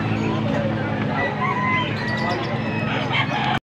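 A rooster for sale at a Bocaue market crows and clucks amid a busy hubbub of voices, with a steady din of chatter and crowd noise around it that cuts off abruptly at the end.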